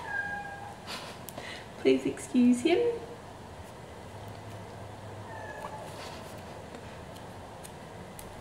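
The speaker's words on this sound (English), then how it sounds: "That's our cat" A house cat gives a couple of short meows at moderate distance around the middle, while a person talks quietly nearby in a room with faint ticking.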